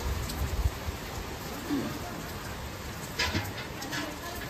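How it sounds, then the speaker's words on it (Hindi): A heavy evening downpour makes a dense, continuous hiss with scattered louder spatters, close and steady throughout. "बारिश देखो क्या कड़ाके की आई है"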